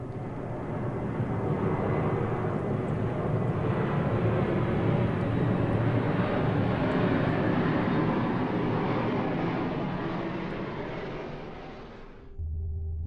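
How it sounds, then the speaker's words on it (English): A plane passes over Mexico City, a broad, steady roar that builds and holds for several seconds, then fades before cutting off abruptly into a low hum. "multiple planes can be heard flying over."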